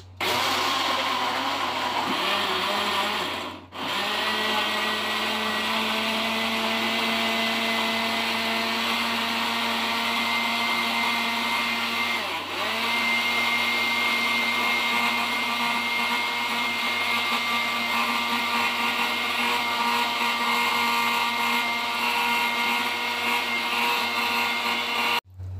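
A blender whirs steadily at full speed, grinding peaches and carrots with sugar and water into juice, loud and continuous with one brief stop near the start and a dip midway.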